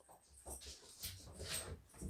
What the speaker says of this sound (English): My dog's in the house now.